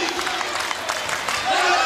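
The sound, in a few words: volleyball crowd cheering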